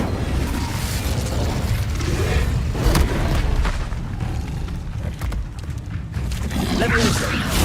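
Incendio fire spell bursts from Hogwarts Legacy, crackling whooshes and sharp pops over a dense rumbling bed, with a stronger flare near the middle and another burst building at the end.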